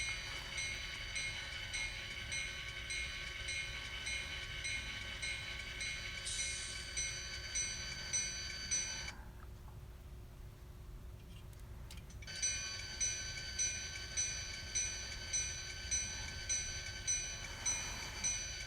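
A GP40 model train locomotive runs with a steady electronic engine drone and rhythmic wheel clicks over track joints. The sound drops out for a few seconds midway, then returns, with no talking.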